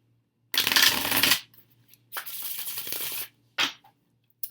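Tarot cards being shuffled up close in two long riffling bursts, followed by a short tap of the deck, against a faint low hum.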